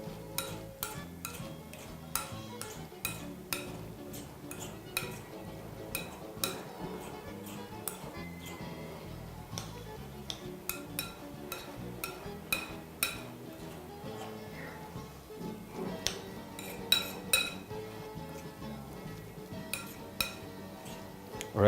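A spoon mixes rice stuffing for stuffed peppers in a bowl, making steady quick clinks and ticks against the dish that carry on without a break at close range.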